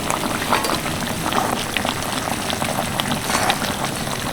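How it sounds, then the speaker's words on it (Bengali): Fried banana flower added to a thickened, simmering potato curry gravy: a dense, steady bubbling and crackling fizz fills the clip, close and even, with faint soft clinks and no speech. "এবার ভেজে রাখা মোচাগুলো দিয়ে দিচ্ছি"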